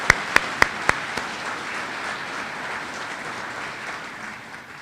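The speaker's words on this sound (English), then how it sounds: "can we please give another round of applause to all the first responders" An audience at a public safety awards ceremony honoring first responders claps in sustained applause, with a few sharp louder claps near the start before the even, dense clapping gradually fades slightly.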